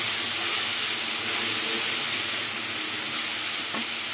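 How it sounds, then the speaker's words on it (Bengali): Cumin, coriander, ginger, chilli, turmeric and green chilli fry together in hot oil for an egg and aubergine curry, producing a loud, continuous hissing sizzle close up with faint stirring scrapes; no voices. "এবার সব মশলাগুলো দিয়ে এবার কষিয়ে নেব।"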